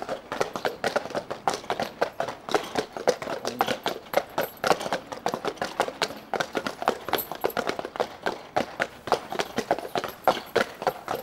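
Heavy hooves clopping on a hard surface in a quick, continuous rhythm, several horses moving together at close range.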